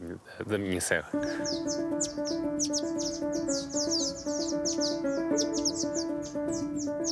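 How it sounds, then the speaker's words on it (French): Crag martins calling in the Serra da Estrela mountains, a run of short chirps and twitters repeated steadily over a sustained droning tone, after a brief opening burst of other sound. "L'hirondelle de rocher n'est peut-être pas le représentant le plus spectaculaire de la Serra."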